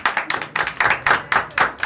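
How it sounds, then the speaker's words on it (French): Close, rhythmic group clapping for Ami during a France–Togo youth intercultural exchange: sharp hand claps land in quick, uneven bursts with short gaps between them. "Il faut applaudir pour Ami"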